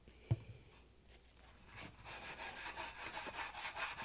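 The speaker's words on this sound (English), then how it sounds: "We're just going to use a scouring pad and some cleaner" Scouring pad and cleaner scrubbing the front lip of a Whirlpool dryer drum, a quiet steady rubbing rasp that builds in rapid back-and-forth strokes after a brief knock, up close.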